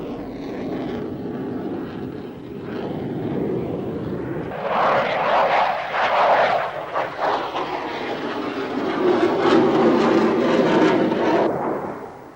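A MiG-29A Soviet jet fighter roars past with a steady broadband jet rumble that swells partway through and stays loud and close, with no talk over it.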